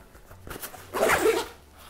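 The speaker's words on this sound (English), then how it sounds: "Take the zipper" Zipper on an Osprey Raptor 10 backpack drawn in one quick close pull, a short rasping zip lasting about half a second after a few faint handling taps.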